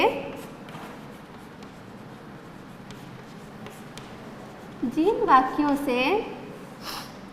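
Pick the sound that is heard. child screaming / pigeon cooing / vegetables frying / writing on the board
writing on the board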